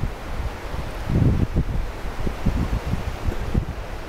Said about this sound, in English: listen to the wind blow